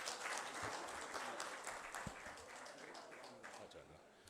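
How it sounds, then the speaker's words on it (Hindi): Guests at an outdoor unity alliance get-together applaud in a dense, steady crowd clapping that fades slightly toward the end. "मैं चाहूँगा पहले क्लिफ्टन के हमारे दोस्तों के लिए भरपूर तालियां बजाई जाएं"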